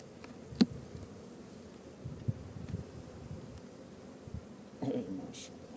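Steady low buzzing of Carniolan honeybees at an open hive throughout, with occasional clicks and knocks nearby and brief rustling; fairly faint.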